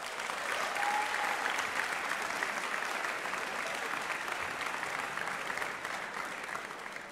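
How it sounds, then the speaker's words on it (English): Sustained audience applause at a college athletics awards ceremony honoring a golf coach, a dense, even roar of many hands clapping that holds steady for several seconds and tapers slightly toward the end. "A huge round of applause to Maura Ballard, the first coach in history of Drew men's and women's golf this fall."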